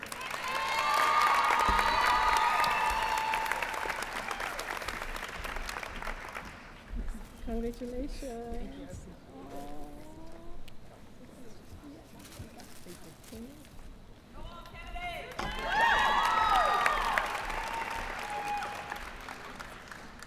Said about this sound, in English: Let's give Kennedy Johnson a big round of applause